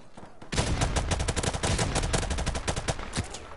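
Dense, sustained gunfire with rapid overlapping shots erupts after a brief lull in the Modern Warfare Remastered online video game, loud and close with no distinct explosion standing out.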